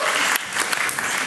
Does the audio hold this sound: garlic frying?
no